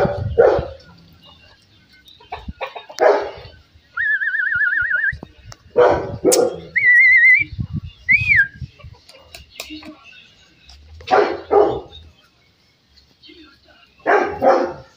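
Beagle puppies romp outdoors after rain, letting out bursts of barking with high squeaky whines in between, loud and close, with pauses between the outbursts.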